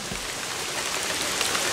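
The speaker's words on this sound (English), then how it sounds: "Stop flipping raining!" Steady rain falling and pattering on surfaces during a week of flooding, a dense continuous hiss with no voices.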